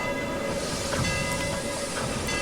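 A Harriman MC-1 2-8-8-2 heavy freight steam locomotive running in the Trainz 2019 game: a steady, loud rumbling roar of the engine and rolling train, with a sustained tonal hum and faint rhythmic rail clicks throughout.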